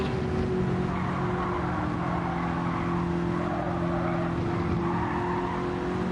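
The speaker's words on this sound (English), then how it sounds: "2018 Ford Focus with a V8 engine swap." A race car in a video game, a 2018 Ford Focus with a V8 engine swap built on a MARC car, drones steadily at high revs with light tyre noise. The sound is loud, constant and free of talk.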